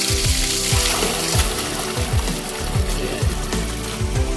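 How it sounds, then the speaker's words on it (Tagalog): Water drains from a concrete fish pond with the bottom outlet opened, a steady rushing, splashing flow with rhythmic repeated knocking pulses underneath, close and continuous. "Mabubuksan din po yung ilalim para mas mabilis po yung pag-drain natin ng tubig."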